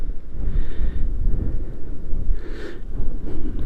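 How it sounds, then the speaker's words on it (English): Wind buffets the microphone during a ride on a Honda Goldwing trike past solid granite rock, a loud steady low rumble that rises and falls in gusts, with no voices. "Lord, look at this wind."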